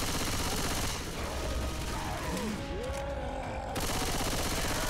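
Rapid gunfire in the zombie shooter Left 4 Dead 2 as players fire on a Tank, dense continuous shooting that fills the whole clip with a short thinner patch in the middle, loud and close, with no talk.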